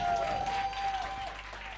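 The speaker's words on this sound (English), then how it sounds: "they deserve a louder round of applause" Steady round of applause from an audience at a school youth ceremony held as a TEDx event, a continuous dense patter at moderate distance with a faint sustained tone and some voice mixed in.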